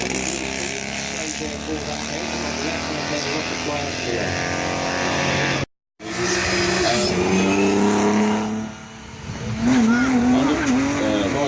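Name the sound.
Norton Dominator motorcycle accelerating around a race track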